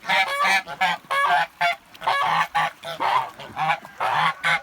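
Kholmogory geese on water honk repeatedly in loud, close bursts, a flock calling in quick succession with short pauses between calls.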